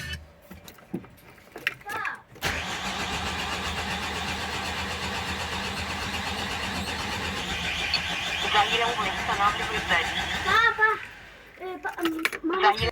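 An Opel Vivaro 2.0 van engine cranks, catches and runs unevenly for several seconds before stalling, with people talking before and after.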